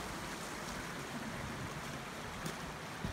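Water flowing through snowy winter woods, a steady, loud rushing wash of sound that fills the whole clip without pause or voices.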